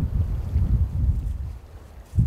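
Strong, cold wind at a freshwater fishing spot buffets the microphone in a steady, loud low rumble with gusts, and no voices are heard.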